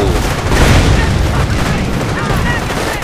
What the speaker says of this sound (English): here comes in some artillery